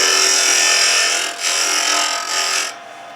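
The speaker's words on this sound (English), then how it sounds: "This is just a scraping cut." Scraping cut on a wood lathe while turning a pepper mill: a loud, continuous hissing scrape with two brief dips, then cutting off near the end to leave a quieter background hum.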